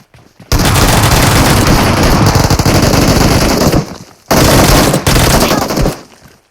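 Uzi fire in a video game match, two long, very loud, rapid automatic bursts of gunfire, several seconds each, separated by a brief pause, close and dominating with no talk.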